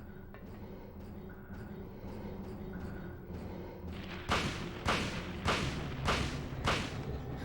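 Five gunshots from Silent Hill on PS2 crack in a loud, evenly spaced sequence about half a second apart, following quieter rumbling game ambience.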